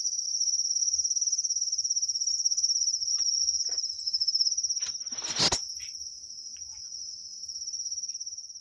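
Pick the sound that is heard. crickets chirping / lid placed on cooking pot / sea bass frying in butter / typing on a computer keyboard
crickets chirping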